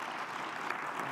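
Audience applause for a panel of speakers at a conference session on smart cities and government service delivery, a steady wash of clapping from many hands, fairly close and continuous with no talking over it.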